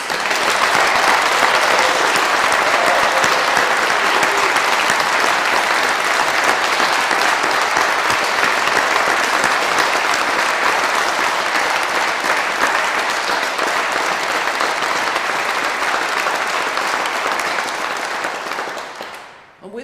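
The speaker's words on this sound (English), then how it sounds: "can everybody give everybody a rousing round of applause?" Sustained, rousing applause from a crowd at a British Empire Medal investiture in Cambridgeshire, a dense, even roar of many hands lasting nearly twenty seconds before tapering off abruptly at the end.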